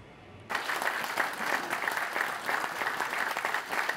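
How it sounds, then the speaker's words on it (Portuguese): After a brief quiet moment, a large audience in a Vatican auditorium breaks into sustained, even applause that continues without pause as the Pope enters. "Sob aplausos, o Papa Leão XIV entrou no auditório do Vaticano"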